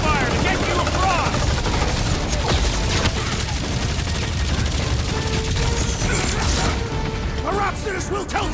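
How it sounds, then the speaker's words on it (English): Rapid bursts of gunfire from the Guardians of the Galaxy video game, dense and continuous, layered with mechanical clatter and game effects, with voices speaking in the mix throughout. "I'll lay down some cover fire to get you across!"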